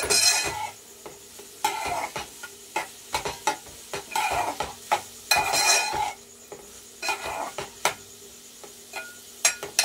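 Onion curry with added salt stirred in a pan on the stove, repeated scraping and clinking spoon strokes over a soft sizzle, close and rhythmic, with no voices.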